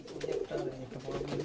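Pigeons in a loft, including a female tila bird, coo in steady low rolling phrases close by, soft and continuous without talk.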